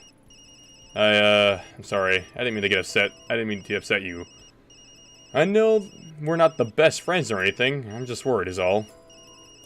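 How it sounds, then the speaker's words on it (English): A video game phone ringtone trills faintly and steadily in the background of a detective ghost-hunting game, sitting under a long stretch of emotional spoken dialogue. "that's my phone."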